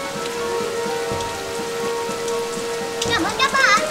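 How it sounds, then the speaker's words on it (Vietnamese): Steady rain patters on a surface throughout, with a musical tone and children's voices singing over it near the end. "mau vào đây chú mưa"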